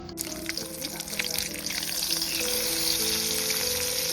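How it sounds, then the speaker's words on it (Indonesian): Eggs and sardines fry together in a pan with a soft, continuous sizzle and crackle that grows slightly louder, heard alone and fairly close. "Kita goreng telur sambil goreng sarden."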